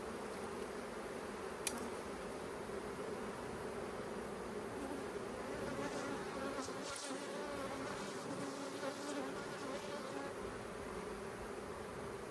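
Honey bees buzzing around an open hive during hive splitting, a dense continuous drone of many bees, faint and steady, with a few brief knocks and no speech.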